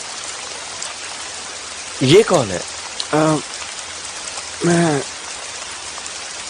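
Rain falls steadily outdoors in a soft continuous hiss, with short bursts of people talking over it.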